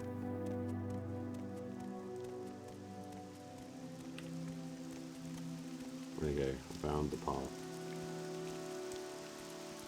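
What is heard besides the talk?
rain falling in the video game Morrowind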